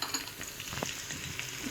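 Red chili powder, crushed chili, salt, turmeric, dried coriander and fenugreek seeds frying in oil in a pan for aloo baingan sabzi, giving a steady close sizzle with faint stirring scrapes and no talk.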